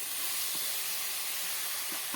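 Grated carrots hit hot melted ghee in a kadhai over a low flame, giving a steady, bright hissing sizzle close up with no talk.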